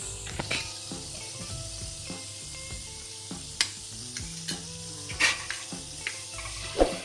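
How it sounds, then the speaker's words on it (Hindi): Diced potatoes fry for masoor pulao with a steady close sizzle. Light scraping and stirring clatters of a spoon against the pot come at irregular moments. "ये देखिए आलू हमारे इसमें फ्राई हो चुके हैं।"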